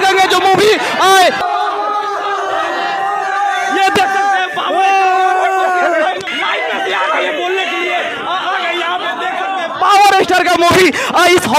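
A large, excited crowd of filmgoers at the Sangeet Hall cinema in Motihari, Bihar, gathered for a Power Star film, chattering and cheering in a dense, continuous hubbub, with louder bursts of shouting at the start and end.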